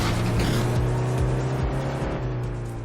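Car engine droning steadily in the Sega Dreamcast driving game Vanishing Point, a loud continuous motor hum with shifting pitch as the vehicle drives, alone without talk.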